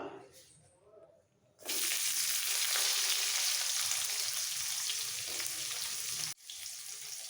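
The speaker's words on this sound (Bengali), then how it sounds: "ফোড়ন ভাজা হয়ে গেলে এর মধ্যে দিয়ে দেবো একটা ছোট পেঁয়াজ কুচোনো" A quiet moment, then a sudden loud burst of sizzling as chopped onion hits hot oil, crackling steadily before briefly cutting out and resuming.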